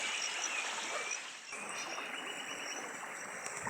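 A river flowing through a natural area near Juja, a steady broad rush of water with faint insect chirps above it and no talking.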